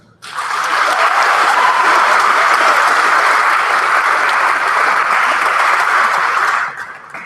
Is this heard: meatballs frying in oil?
no